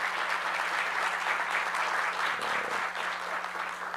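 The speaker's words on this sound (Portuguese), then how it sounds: "Eu peço ao senhor, doutor Miguel, uma salva de palmas" Applause from an audience at a formal solemn session marking a forensic examination center's anniversary, a steady wash of clapping that fills the whole stretch at moderate loudness with no voices over it.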